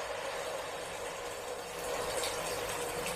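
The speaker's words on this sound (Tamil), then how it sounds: "கொஞ்சம் லைட்டாக தண்ணி சேர்த்துக்கோங்க." Water poured into a cashew, almond and onion paste frying in a pan for veg korma, giving a steady hiss and sizzle at low to moderate level.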